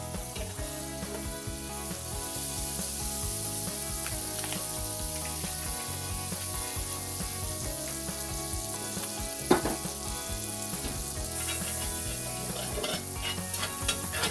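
Garlic lemon butter sauce being stirred in a pan with the stove off, a utensil scraping the bottom in steady repeated strokes under a soft continuous sizzle, close and fairly loud, one sharper clank near the end.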